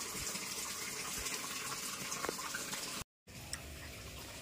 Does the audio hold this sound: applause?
no